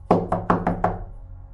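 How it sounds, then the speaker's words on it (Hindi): Five quick knocks on a wooden door in a horror story setting, close and sharp, falling in an uneven rhythm and fading into a short ringing tail. "वो दरवाज़ा खटखटाने लगा मगर कोई जवाब ना आया।"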